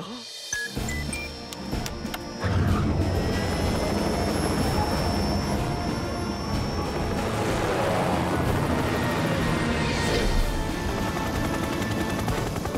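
A cartoon helicopter roars steadily overhead, its loud engine and rotor noise filling the air after a brief quieter start.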